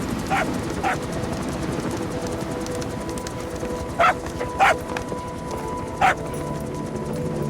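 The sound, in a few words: dog barking, from the video game Metal Gear Solid V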